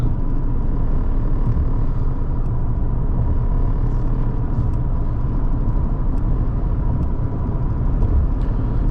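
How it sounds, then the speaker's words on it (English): 2003 Mercedes-Benz CL500 accelerating under light throttle, a steady, loud low engine and road rumble heard from inside the cabin, continuous throughout without speech. "I'm barely adding any throttle, and the car just goes."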